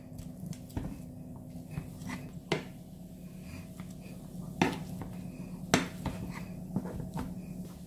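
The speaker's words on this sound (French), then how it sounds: "Je vais ajouter la pomme de terre et l'ail haché. On va écraser comme ça." Potato and chopped garlic being mashed in a pan of oil: a series of irregular clicks, taps and soft scraping knocks against the pan, fairly quiet and close, with no talking.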